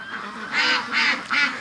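Frightened ducks kept for a charity flock quack in three loud, harsh bursts at a steady rhythm, close by, with no talking.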